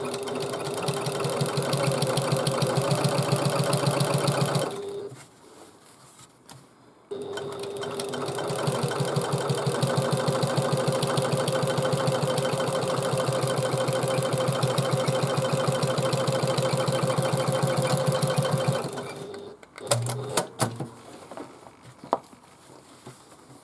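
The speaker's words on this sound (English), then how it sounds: "So, I've top stitched both sides of the seams" A sewing machine topstitches the seams of a handmade bag in two long, steady runs of fast rhythmic stitching, stopping briefly in between. Near and loud, it ends with a few handling clicks as the needle halts.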